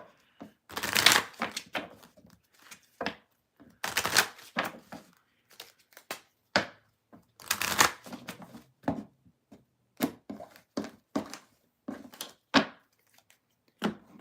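Repeated bursts of tarot cards being shuffled, crisp riffling flutters and soft taps in an uneven rhythm, close and clear with no talking.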